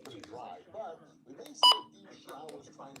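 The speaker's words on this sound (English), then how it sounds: "That's the button beeps." A single sharp electronic beep from a device button, loud and brief, over a low background hum and a voice talking before and after.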